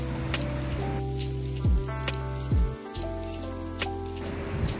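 Chopped chillies sizzle steadily in a hot pan for fried rice, a continuous crackling fry broken by a few louder scraping stirs, close and with no talking.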